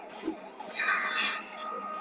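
An ambulance siren in the Spider-Man video game wails over a busy game backdrop, its tone swelling loudest in the middle before easing back, with brief sounds from the surrounding action.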